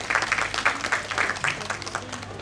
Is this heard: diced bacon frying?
no